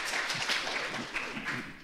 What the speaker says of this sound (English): Gentle people of the audience, please hold applause.